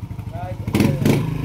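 A repaired motorcycle runs on a road test, its engine putting along and then rising as it revs and pulls away, with someone talking over it.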